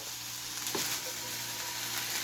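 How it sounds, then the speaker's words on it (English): Steady hissing sizzle of eggs frying in a hot pan for an omelet, with a brief clink or scrape partway through. "once you hear the sizzling"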